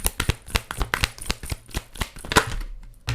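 A deck of tarot cards is shuffled by hand up close, giving a quick, steady run of crisp riffling slaps and flicks over about three seconds with no talking.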